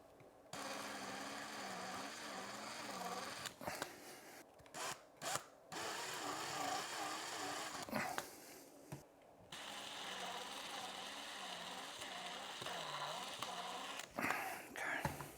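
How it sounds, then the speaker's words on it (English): A power drill whirs in steady bursts with short pauses between, close by, its motor pitch wavering as it works against a stubborn stripped screw. "Here, let's try the drill."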